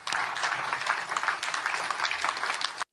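Hesitant audience applause at a formal signing ceremony, a dense, steady patter of many hands clapping for about three seconds before stopping abruptly.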